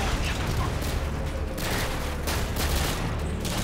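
Continuous gunfire from a first-person shooter match in Modern Warfare 2, with heavy low booms and rapid shots. It runs loud and dense through the whole stretch, and a player's voice talks over parts of it.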